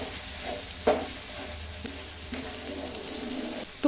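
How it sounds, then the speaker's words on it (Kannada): Masala frying in ghee on a tawa for a fish fry, with a splash of water added, giving a steady close sizzle with a few sharp stirring knocks spaced through it. "ತುಪ್ಪದಲ್ಲಿ ಮಸಾಲ ಚೆನ್ನಾಗಿ ಫ್ರೈ ಆಗಬೇಕು"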